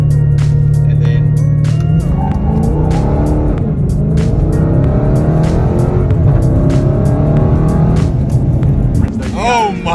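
A 2020 Dodge Challenger 1320 Scatpack launching off the trans brake on an unprepped surface, its engine held at a loud steady rev, then surging and climbing through gears up close, with a brief tire chirp near the end.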